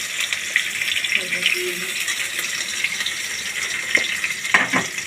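Onions and green chillies frying in a pan for a potato fry, a steady sizzle with stirring scrapes and brief clatters, close and moderately loud with a little background voice.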